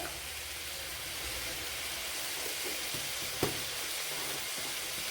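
Soya chunks with turmeric and pepper powder frying on a low flame in a Kerala-style ularthiyathu, giving a steady, even sizzle with a single brief clink partway through.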